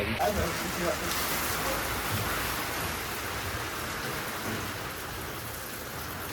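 Heavy rain pours steadily with gusting wind during a storm, a dense continuous wash of drops close by that eases only slightly toward the end, with no talk over it.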